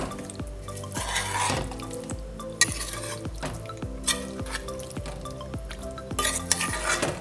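Biryani ingredients being mixed in a pan, steady rhythmic scraping and knocking of a spoon against metal, with bursts of brighter sizzle between strokes and no voices.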